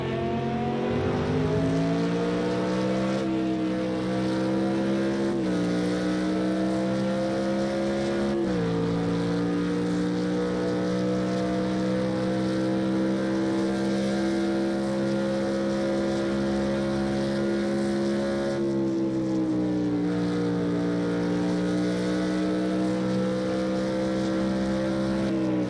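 A GT1 race car engine in Project Cars 2 at Spa drones loudly and continuously, pitch climbing through the gears with several sharp drops at upshifts, alone with no talk.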